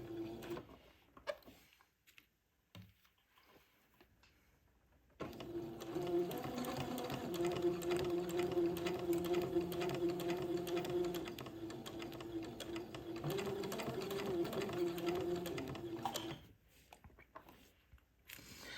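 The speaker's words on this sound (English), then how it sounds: "And I'm going to sew immediately to the right of the entredot ladder and tack this entredot into place." A sewing machine runs a slow, steady straight seam, tacking entredot lace onto a doll dress, humming and whirring close by for about eleven seconds between quiet handling sounds, with no talking.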